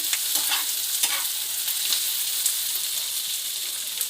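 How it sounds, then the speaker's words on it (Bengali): Onions and green chillies fry in a pan with a dense, steady sizzle, while a utensil stirs them in repeated light scrapes and clicks, close and without voices. "পেঁয়াজটা ভাজা হয়ে গেছে, আমি এবার লঙ্কাগুলো দিয়ে দেব। লঙ্কাগুলো দিয়ে ভালো করে নাড়াচাড়া করে"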